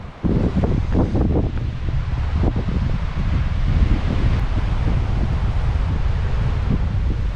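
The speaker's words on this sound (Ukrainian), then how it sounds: "Подивимося ще раз на Балтійське море." Baltic Sea waves breaking on a beach at Międzyzdroje, Poland, with strong wind buffeting the microphone, a continuous rushing wash and no voices.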